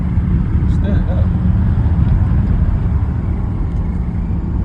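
A rebuilt VW T4 van with a 2.5 ACV engine accelerating on the road, a loud continuous low rumble with road and wind noise heard from inside.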